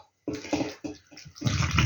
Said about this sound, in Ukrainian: І воду заливати кип'ятком.